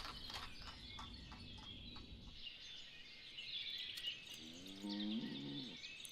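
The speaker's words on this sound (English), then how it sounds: "Moo indeed." Cattle low in a farm-building video game set in a Ukrainian village, a soft distant moo rising late over steady ambient rustle and faint bird chirps.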